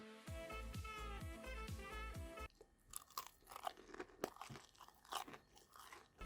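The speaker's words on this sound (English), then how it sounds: "I think you can hear the crunch." Fried chicken sticks being bitten and chewed close up, a series of sharp crisp crunches in quick succession after a short burst of music, loud and intimate with no voices.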